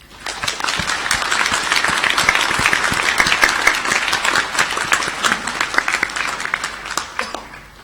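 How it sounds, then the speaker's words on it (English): A graduation audience at Monash Malaysia breaks into sustained applause for the graduates, dense clapping that holds steady at full strength for several seconds before easing slightly at the end. "now I ask members of the audience to applaud your accomplishments"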